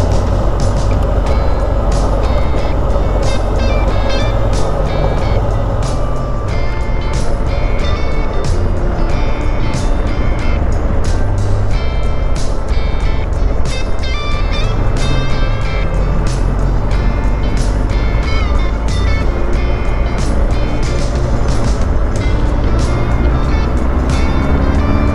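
Constant engine drone and wind rush while riding a 2023 BMW R 1250 GS Adventure motorcycle, loud and steady throughout with a low rumbling tone and no clear breaks.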